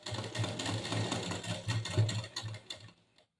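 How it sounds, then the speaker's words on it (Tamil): A sewing machine stitches fabric at a quarter-inch seam, running at close range with a steady, rapid mechanical whirr and rhythmic clatter that slows and stops near the end, with no talking. "நம்ம ஒரு கால் இன்ச்சில் தையல் போட்டுக்கணும்"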